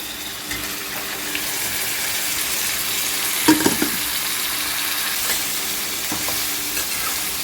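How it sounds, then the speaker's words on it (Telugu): Chopped tomatoes go into a pan of potato and broad bean curry, a steady close sizzle of frying with a brief clatter of stirring near the middle. "టమాటా వేస్తున్నాను"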